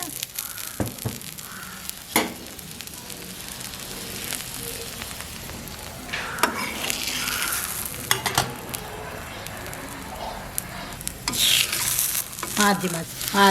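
An onion rotti fries in sesame oil on a pan with a soft, steady sizzle. Scattered scraping and stirring clicks come close up over it, with a louder burst of crackling near the end.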